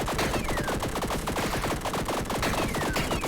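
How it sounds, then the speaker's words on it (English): Rapid, dense rattling bursts of Gatling gun fire from the video game Tiny Rogues, loud and continuous throughout, with rhythmic mechanical repetition and faint descending whistles over the top. "The Gatling gun."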